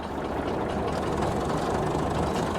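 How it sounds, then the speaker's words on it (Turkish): A farm tractor's diesel engine runs loud and close, a dense, steady rough clatter as it speeds up. "Arabayı, traktörü biraz hızlandıralım."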